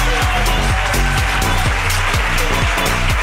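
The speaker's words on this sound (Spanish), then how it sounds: "¡Aplauso para la ruina de Andrea, por favor!" A live audience at a comedy show gives loud, dense applause, with many hands clapping continuously and steadily throughout.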